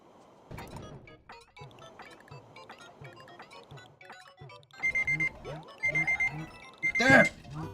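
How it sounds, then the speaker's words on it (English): A phone alarm reminding its owner to drink water beeps in short repeated bursts late in the stretch, three loud pulsed clusters following game sounds and a man's speech, with a sharp noisy burst at the end. "Stupid alarm. Yes, I know I need to drink water. Thank you, phone."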